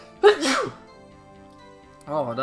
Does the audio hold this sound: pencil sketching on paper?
no